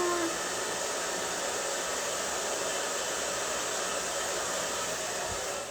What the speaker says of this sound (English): let me blow dry this just a little bit more